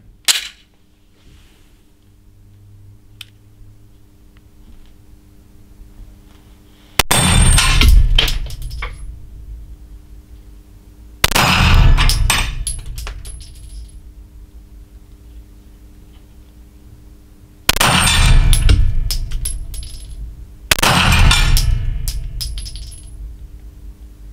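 Springfield Armory Echelon pistol fired at steel gongs from about 20 meters, four loud sharp shots spaced several seconds apart, each with a ringing metallic decay, plus a faint click early on.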